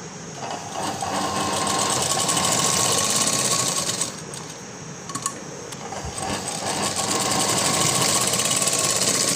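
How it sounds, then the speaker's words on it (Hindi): A sewing machine stitches a floral frock, running steadily and loud at close range with short slowdowns and pauses between bursts as the folded neck band seam is sewn. "अब मैं इसे इस तरह फोल्ड करके सिलाई लगा लूँगी।"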